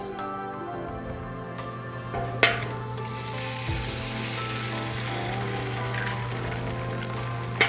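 Eggs frying in oil inside ring molds on a Camp Chef flat top griddle, a steady close sizzle with a low hum underneath and a few sharp metallic clicks and taps.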